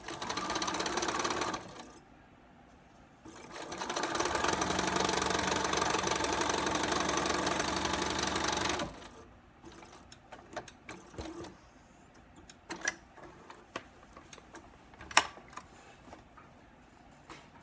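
Quilt rows go through a sewing machine in two runs, a brief one and then a steady, close whir of about five seconds, followed by quieter fabric handling and small clicks.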